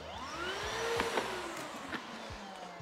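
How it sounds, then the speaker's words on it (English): A Makita 40-volt cordless vacuum runs on two batteries, giving a faint, steady whine with a slight pitch sweep and a few small clicks during house renovation work. "I'm just setting up the new Makita"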